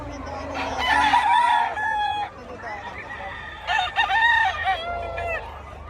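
Roosters crow loudly twice, close by at a market in Bocaue, over a low background hum with chickens clucking softly between the calls.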